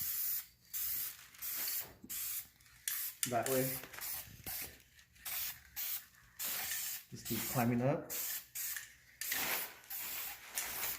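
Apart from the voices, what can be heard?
spray paint can spraying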